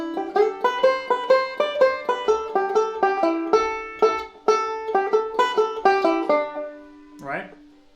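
A banjo plays the first line of the fiddle tune Billy in the Lowground as a quick run of bright, closely miked plucked notes in a steady rhythm. It ends with a sustained note, followed by a brief vocal sound.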